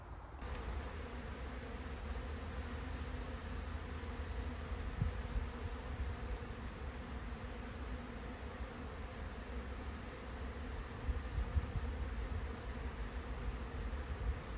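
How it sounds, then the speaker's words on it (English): A continuous buzzing drone of many bees orientating around a newly combined hive, flying close by, steady and fairly quiet, with no voices. "The bees are actually orientating in their new location."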